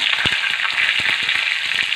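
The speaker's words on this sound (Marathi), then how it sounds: "फोडणी देत असताना कढीपत्ता घालून घ्यायचा" Curry leaves and green chillies sputter in hot oil for a tempering, giving a bright, continuous sizzle with sharp pops scattered through it, close and loud with no talking.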